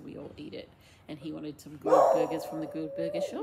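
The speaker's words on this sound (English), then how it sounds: "sorry about my dog barking" A dog barks at home as a person talks, its sharp barks breaking in partway through and standing out loudly against the ongoing speech.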